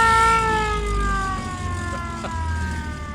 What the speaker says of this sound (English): That deserves a siren.